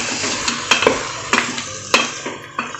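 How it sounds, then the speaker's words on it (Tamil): A utensil stirs pork fry with chopped garlic and a splash of water in a cooking pan. Repeated scraping strokes ring out over a constant sizzle, close and loud, with no talking. "நல்லா கலக்கி விட்டுக்கலாம்."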